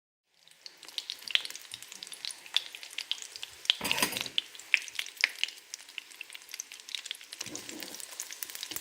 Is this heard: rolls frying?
yes